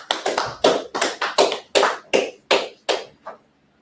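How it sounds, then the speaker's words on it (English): A class of people claps together in a short burst of about eleven sharp, separate claps that slow and fade out, with no talking. "let's clap up the class then, right?"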